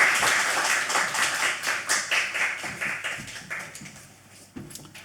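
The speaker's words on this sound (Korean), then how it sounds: "목사님 나오실 때 환영의 박수 한번 하십시다" A church congregation claps together to welcome a pastor at a Sunday service: dense, lively clapping that fades toward the end.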